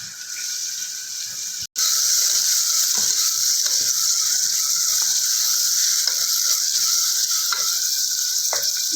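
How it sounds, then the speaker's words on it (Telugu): Onions frying in hot oil for mutton curry, a loud steady sizzle close by with faint scraping and stirring clicks, broken by one brief dropout early on. "ఆనియన్స్ వేసుకుందాం ఆనియన్స్ వేస్తున్నా"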